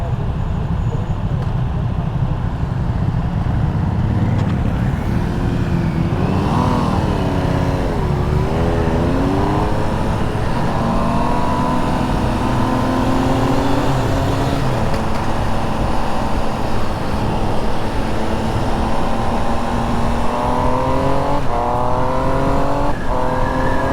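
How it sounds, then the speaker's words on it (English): A Triumph Trident 800 motorcycle accelerates hard through the gears on its quick shifter, the engine note climbing repeatedly in steady rising sweeps with brief breaks at each upshift, under continuous wind rush. "that was just a quick little try of the quick shifter, speed shifter"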